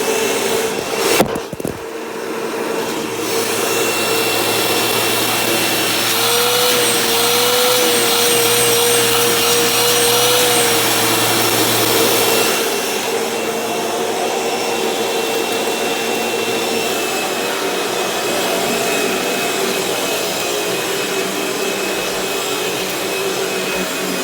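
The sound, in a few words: vacuum cleaner running, Bissell PowerGroom or Eureka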